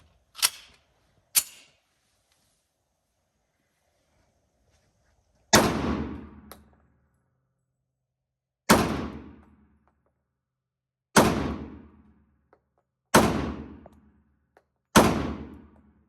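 A 1911 pistol fires seven single gunshots at irregular intervals, each a sharp loud crack with a short decaying ring, separated by near silence. Two lighter shots come early, followed by five heavier ones.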